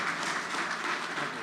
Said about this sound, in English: can you join me in giving another round of applause for the poet